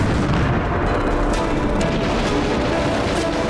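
Heavy siege guns fire continuously at a fortress citadel, deep booms blending into a dense, loud roar with no pauses.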